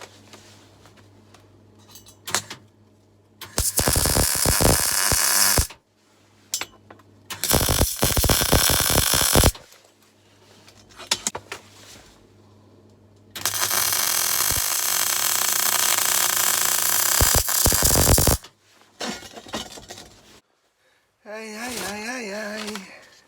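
A power drill bores out bolts in bursts of loud, steady whirring, three long runs separated by pauses with clanks and handling noises, ending in a short ratcheting rattle.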